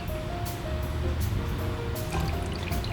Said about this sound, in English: this is the best time to pour yourself a glass of champagne